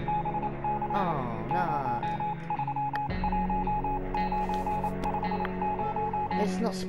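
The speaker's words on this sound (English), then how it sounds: "Morse code." In 60 Seconds! Reatomized, a radio Morse transmission sends a string of high, clipped beeps in irregular dots and dashes, sitting above a constant droning hum with a voice faintly underneath.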